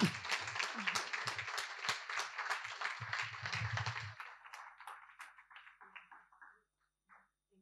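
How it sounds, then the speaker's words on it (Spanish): An audience at a chemistry lecture applauds the day's speaker, a burst of clapping that starts dense and close, then thins to scattered individual claps and dies away into near silence. "Pues vamos a aplaudir otra vez a nuestra magnífica ponente de hoy."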